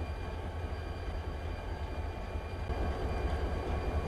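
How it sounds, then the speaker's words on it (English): An eastbound unit freight train of about 30 or 40 pipe-loaded flat cars rolls through a rail yard, giving a steady low rumble that swells slightly toward the end, heard from a distance. "Up first is an eastbound Mopac unit train with about 30 or 40 pipe cars"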